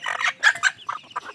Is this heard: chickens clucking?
yes